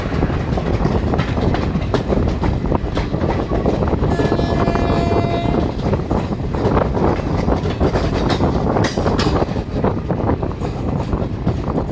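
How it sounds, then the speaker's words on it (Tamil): A passenger train between Coimbatore and Trichy rumbles past close by, loud and continuous with rhythmic clattering of wheels and a brief whistle tone partway through. "இங்கே ட்ரெயின் இங்கே வா."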